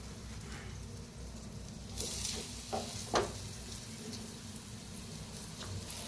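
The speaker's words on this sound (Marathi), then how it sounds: "आता हे दुसरं बी भाजून घेऊया." Eggplant slices fry in oil in a pan, a steady close sizzle with a few brief clinks and stirring scrapes partway through.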